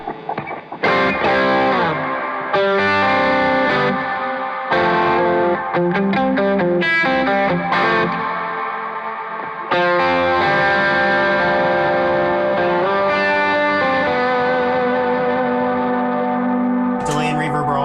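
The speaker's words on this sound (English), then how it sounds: "Delay and reverb are always on, basically, all the time." An electric guitar played through an effects rig with delay and reverb gives sustained, layered chords and repeating notes that echo and wash into each other, loud and continuous with short breaks.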